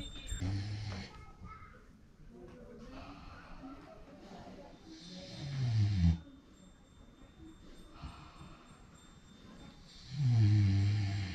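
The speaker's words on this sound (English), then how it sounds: "Where is that snoring noise coming from?" Low, rumbling snores from sleeping wild hogs rise in a few long swells, with quieter breathing and ambient noise between them; voices murmur faintly in the background.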